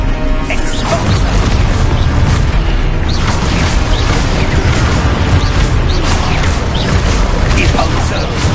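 Spell explosions in Hogwarts Legacy: a loud continuous stream of booms and crashing blasts, dense and unbroken throughout, layered over game music and effects.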